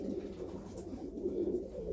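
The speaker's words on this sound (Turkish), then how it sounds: "Bu da zaten Uçamıyor bizim engelli bizim güvercin" Soft, low pigeon cooing murmurs steadily throughout, a continuous gentle burbling with no voices.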